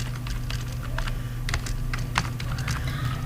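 Keystrokes on a computer keyboard while entering student marks into a Microsoft Access table, a rapid irregular run of light clicks over a steady low hum, close and with no talking.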